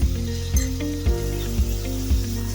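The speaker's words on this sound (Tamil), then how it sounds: "இது 1 நிமிஷம் போல் வதக்கிக்கலாம்." Spices and curd sautéing in oil for a Tamil okra gravy, giving a continuous close sizzle with a few soft stirring clunks every half second or so.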